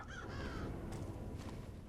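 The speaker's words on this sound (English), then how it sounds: "I just spooked the bird there." A startled bird in the video game Thief gives a harsh, crow-like caw at the start, then the rustle of flapping wings follows against a low, murky ambient background.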